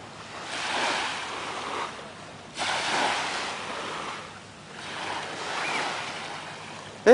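Ocean waves roll in at Palawan Beach, an artificial beach on Sentosa Island, Singapore. Three soft swells surge and recede in a slow rhythm, a gentle washing hiss with light wind and no voices.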